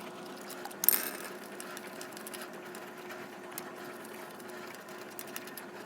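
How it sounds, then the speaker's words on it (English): A 3/4 inch wrench spins wheel lug nuts loose with a quiet, steady mechanical whir and a short, sharper burst near the start. No one speaks. "they're going to be a 3/4 inch wrench, and we're going to go ahead and remove all 5 lug nuts in the wheel"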